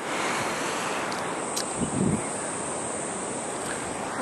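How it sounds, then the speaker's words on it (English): Continuous roar of surf washing onto Palolem Beach in Goa, India, with a slightly louder wave breaking around the middle and wind noise throughout. "But now there are some waves, so it makes the water a bit sandy."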